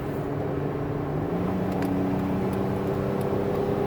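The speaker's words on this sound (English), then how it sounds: "Get them up to highway speed so you can hear the engine run and the transmission shift." A 2010 Dodge Caravan SXT wheelchair van with 145k miles cruises at highway speed, its engine giving a steady droning hum with a faintly rising tone, continuous and close, no talking.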